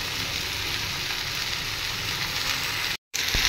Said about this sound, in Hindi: अब हम डालेंगे अपने कटे हुए आलूओं को, या गेंठी, एक जो पहाड़ी आलू बोल सकते हैं इसको